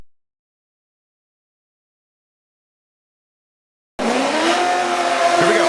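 Formula Drift race car at Englishtown under a bridge into an outside zone, engine roaring with tires squealing, loud and close; silence for the first four seconds, then abrupt continuous engine drone and tire screech.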